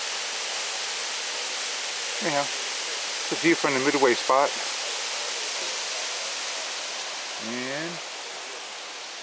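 Steady, broad rushing of a waterfall in Blowing Rock fills the scene at moderate level, with someone talking briefly over it.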